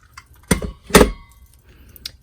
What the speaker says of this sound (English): I'm going to cut that out with the classic label punch